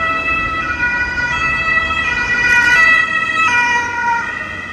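An ambulance siren wails in Germany as the vehicle passes, its steady two-tone cry growing louder then shifting, heard over low road and traffic noise.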